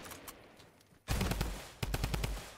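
Video game shootout gunfire: after a second of faint background, rapid automatic bursts erupt loudly and close, a sustained rattle followed by a second burst of sharp individual shots, with no talking.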